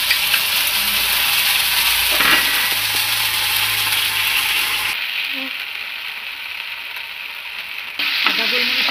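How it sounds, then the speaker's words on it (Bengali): Ginger and black pepper paste sizzling in hot oil in a pan, a steady loud frying hiss throughout with brief stirring scrapes, dropping slightly quieter midway before rising again. "আদা গোলমরিচটা ভাজা হয়ে গেছে,"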